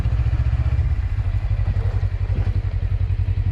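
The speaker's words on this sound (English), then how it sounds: "this is the Xiaomi compressor" A Xiaomi portable air compressor pump runs close by with a loud, steady low buzzing drone and a rapid mechanical pulse throughout, with no one talking.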